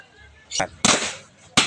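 An electric pole with an illegal power tap pops and sparks, sharp popping bursts with a crackling, hissing rush, a few in quick succession, loud and fairly close, with people talking around them.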